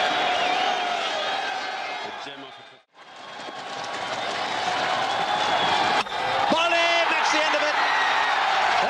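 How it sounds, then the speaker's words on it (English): Cricket crowd at the Pakistan versus South Africa Coca-Cola Cup 2000 final in Sharjah applauding and cheering in a standing ovation, a dense sustained roar broken by one brief drop before swelling back, with commentary voices over it. "Getting a standing ovation by the crowd."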